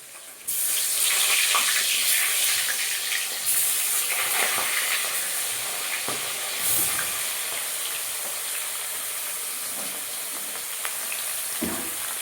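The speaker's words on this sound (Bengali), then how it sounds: "তেলটা গরম হয়ে গেছে দেখো কই মাছগুলো ভেজে নেবো" Koi fish fry in hot oil in a home kitchen, giving a steady, loud sizzling hiss that runs continuously with small crackles and pops throughout.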